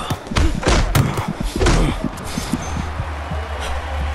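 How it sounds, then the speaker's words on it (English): Punches land in the Creed: Rise to Glory boxing video game, with Drago delivering hard hits: a quick cluster of loud, heavy thuds up front that fades into quieter ambience. "a hard hit from Drago"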